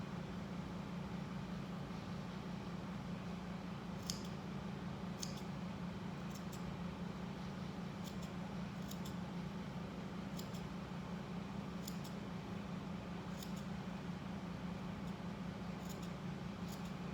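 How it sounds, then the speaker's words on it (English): Scissors trimming the fabric edges of a tank tee: a series of faint, crisp snips at irregular intervals over a steady low background hum, quiet and close. "Trim your edges."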